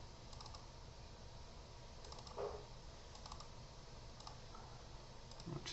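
Faint, sparse clicks of a computer mouse and keys at a desk while working in SprutCAM machining software, quiet and close against a low steady hiss, with no talk.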